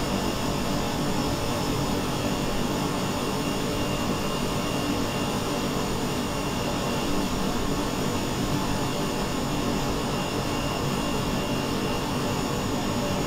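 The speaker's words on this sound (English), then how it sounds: "Whilst we watch the plane land" A jet airliner coming in to land in Microsoft Flight Simulator 2020 on a Dutch Caribbean flight, heard as a steady, broadband roar of engine and wind noise, constant and unbroken throughout.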